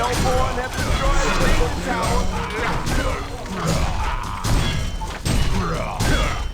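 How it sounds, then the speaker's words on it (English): Heavy thuds and crashing impacts as a Legion barracks is destroyed in a video game, loud and dense, with a busy layer of game noise and overlapping talk throughout. "A Legion barracks has been destroyed"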